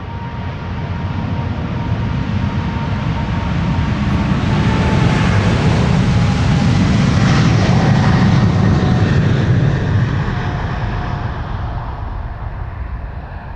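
A KLM Boeing 777-200 departs Amsterdam Schiphol with a loud, sustained jet roar that swells and then slowly fades.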